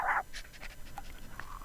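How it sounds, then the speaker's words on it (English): Dog panting in the video game Pyst, a quick series of short breathy pants at moderate volume after one brief louder burst. "Got a dog here."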